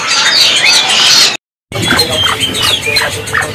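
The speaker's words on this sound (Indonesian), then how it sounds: "Ini ada stok dari burung puyuh" Quail at a bird market stall in Indonesia give loud, busy squawking and chirping calls, with several birds overlapping continuously before and after a brief silent break.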